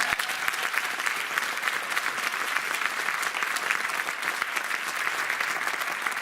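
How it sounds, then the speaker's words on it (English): Sustained, dense applause from a large crowd, loud and even throughout without a break. "Please give a round of applause for Speaker Carl Heastie."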